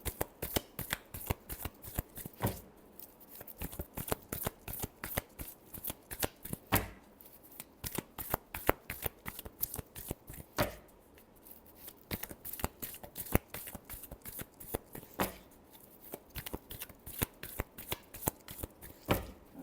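Tarot cards are shuffled by hand in quick riffling bursts of crisp flicks and snaps, repeated in a steady rhythm with short pauses between rounds, close and fairly quiet, with no talk over it.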